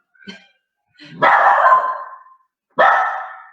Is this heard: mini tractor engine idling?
no